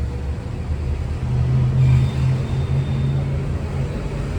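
Road traffic in Prayagraj, heard from inside a truck, makes a low steady engine rumble that swells briefly in the middle, with a distant vehicle hum and no clear talk.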